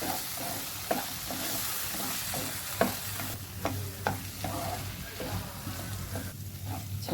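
Chukkakura greens chutney stirred in a pan, soft scraping and spoon clinks at an irregular rhythm over a steady low sizzle, close and fairly quiet.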